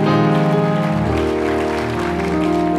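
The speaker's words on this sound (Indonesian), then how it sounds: "Kasih tepuk tangan dulu buat Tuhan." Applause at a church service fills the space, sustained and loud, blending with sustained musical tones underneath.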